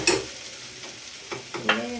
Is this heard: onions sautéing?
yes